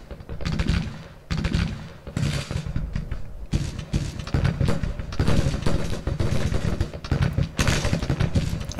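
Civil War strategy game battle gunfire rolls on in dense volleys of musketry, loud and continuous with short gaps between bursts, and no voices over it.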